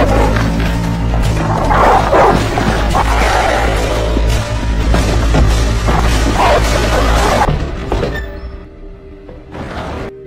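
A dog barks and yips repeatedly over a busy, noisy background, the commotion thinning out toward the end.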